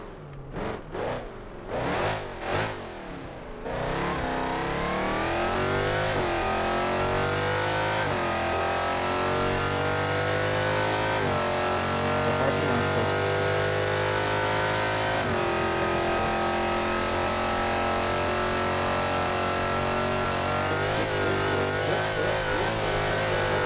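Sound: sports car accelerating in the video game BeamNG.drive

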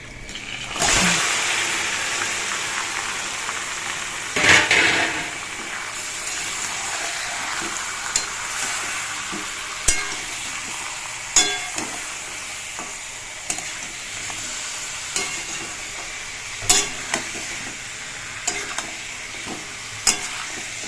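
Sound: marinated chicken added to frying onions, sizzling and stirring

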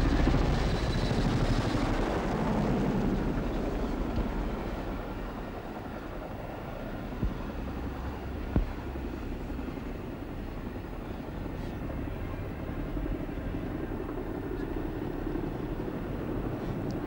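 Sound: Boeing CH-47 Chinook helicopters flying past

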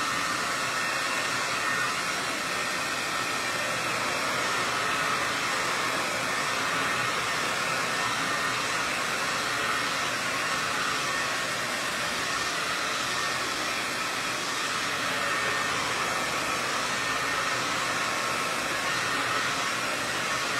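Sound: hair dryer drying a DIY monogram sign

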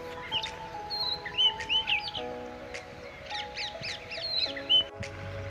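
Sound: birds chirping outdoors

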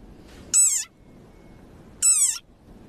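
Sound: angry frog croaking war cry

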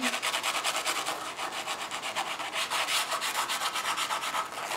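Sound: spoolie brush scrubbing waxy crayon on paper

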